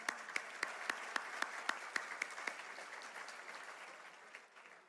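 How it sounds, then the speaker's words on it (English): A round of applause from an audience at an annual Louisiana business luncheon, a faint, moderately distant clatter of clapping with a few sharp individual claps standing out, fading away by the end. "Let's give them a round of applause."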